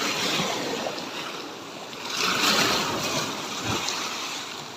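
Sea waves wash onto a beach, a steady broadband roar that swells in the middle and again near the end, with wind noise and no talking.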